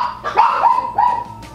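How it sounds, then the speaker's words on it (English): Dogs barking indoors at home, a few short yelping barks and whimpers close by over about a second and a half, with no talking. "I can't get through one of them without them barking."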